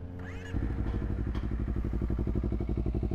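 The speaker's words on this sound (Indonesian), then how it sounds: "Ini suara idle dari knalpot Villan MV2 Carbon Forged." A Honda CBR250R with a Villan MV2 carbon forged full-system exhaust, no dB killer fitted, starts into a deep, even idle, a close, steady low burble with rapid regular pulses after a brief moment of quieter clatter.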